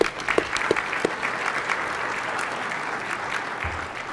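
Applause fills a senate chamber during a floor session, sustained clapping from the gathered guests with a few sharper claps near the start, steady and moderately loud throughout.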